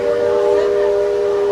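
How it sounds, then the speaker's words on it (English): A steady, loud steam train whistle at Magic Kingdom, Walt Disney World, Florida, blows continuously, a sustained pure tone with breathy hiss around it, held without a break throughout. "You can hear the steam whistle."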